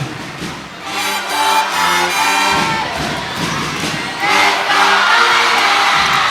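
At a junior men's basketball finals game, the home crowd cheers loudly with shouts and whoops through a standing ovation, a sustained roar that swells again midway, with a voice talking over the noise.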